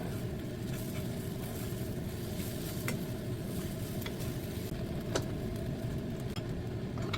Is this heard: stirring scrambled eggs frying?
yes